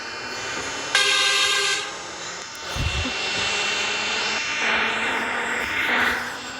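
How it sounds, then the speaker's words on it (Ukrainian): A Kharkiv metro train shuts its doors with a brief warning tone, then pulls out of the station, its motor and wheel rumble swelling into a steady, loud roar with a rising whine heard from inside the carriage. "Так зачиняємо і починаємо їхати."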